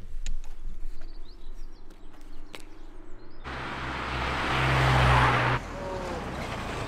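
A car approaches along a roadside to pick up hitchhikers. Birds call faintly, then the engine swells and passes close, loud for a couple of seconds before dropping back.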